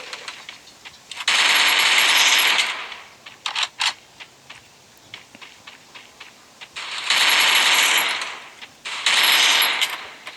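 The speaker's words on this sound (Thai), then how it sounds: "ปืนปืนปืนมันแรงปืนมันแรง ปืนมันแรงครับผม" Gunfire from a gun in a video game comes in two long sustained automatic bursts separated by a handful of sharp single shots, loud and close, with no voices over it.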